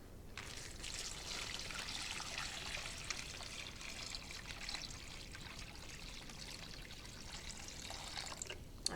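Water pours steadily into a gallon Ziploc bag, a continuous splashing trickle that runs close and unbroken for about nine seconds with no talking over it.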